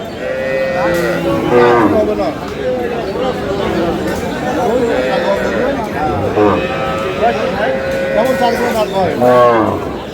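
Cows and calves moo repeatedly at a busy Aftabganj cattle market in Dinajpur where dairy cows and calves are sold, several bellows overlapping with bleats and a steady crowd murmur, while people talk throughout.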